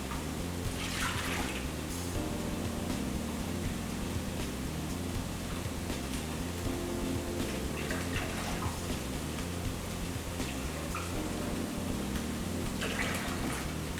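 Milk poured steadily into a measuring container to make one quart for cream of celery soup, a continuous soft liquid pour with faint splashy bursts, no talking.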